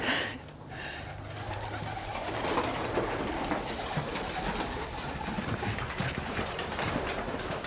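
Pigeons at a city pigeon loft coo steadily at close range, with a dense, continuous murmur of birds and soft fluttering throughout and no voices.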